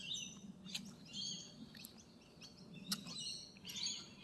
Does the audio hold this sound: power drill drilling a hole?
no